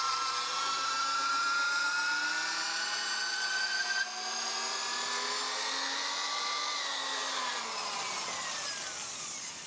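A drill bores a bolt hole into the back of a Stevens Springfield rifle receiver, a steady high whining grind that shifts pitch slightly as it cuts, close and continuous with no talk.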